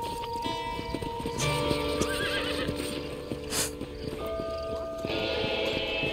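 A horse in the video game Red Dead Redemption whinnies and snorts amid clip-clopping hooves, with game music and ambient sounds underneath; loud and close throughout.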